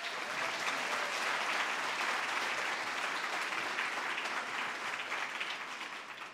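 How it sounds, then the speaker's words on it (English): An audience at a youth program event applauds steadily for the presenters, a dense, sustained wash of clapping that holds at full strength throughout and eases slightly at the end. "Please give them a round of applause."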